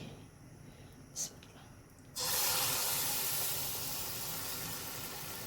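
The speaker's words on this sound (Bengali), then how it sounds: "তেল গরম হয়ে গেছে একটা দিয়ে দেখি" A piece of food dropped into hot oil for frying bursts into a loud, bright sizzle that sets in abruptly after a quiet stretch and keeps hissing steadily, easing off slightly, with faint talk nearby.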